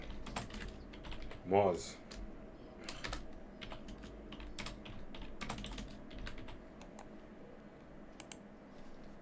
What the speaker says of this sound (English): So if I type here go to